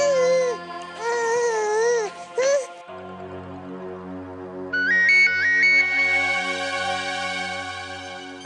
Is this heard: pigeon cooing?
no